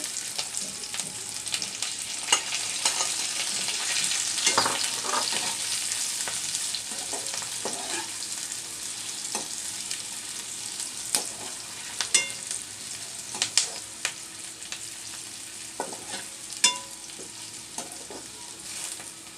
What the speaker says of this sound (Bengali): পটল ভাজাটা দিয়ে দিচ্ছি